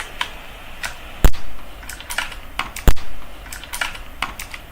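Typing on a mechanical keyboard, heard close up as a steady run of irregular clacking keystrokes with two sharper, louder key strikes standing out. No one speaks.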